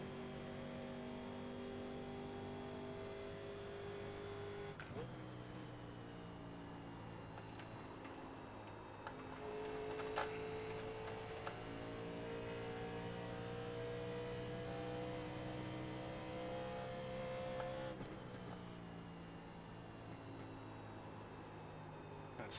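NASCAR Legends race car engine in the iRacing simulator at Pocono, a steady droning engine note held near full throttle, shifting pitch slightly at a few points across roughly twenty seconds, quiet in level and with no talk.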